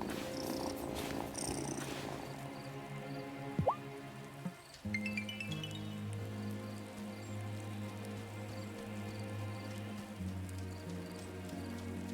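A cat purring in the video game Wylde Flowers, a soft continuous rumbling under gentle rain and drips, with brief chiming game tones over the top.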